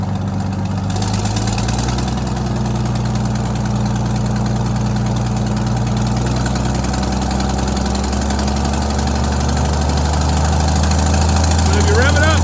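An old tractor engine chugs at a steady, loud idle close by, its rhythm wavering slightly with a carburettor stumble, while someone talks over it.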